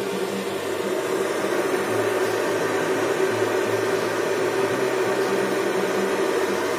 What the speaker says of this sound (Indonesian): Kipas nyala.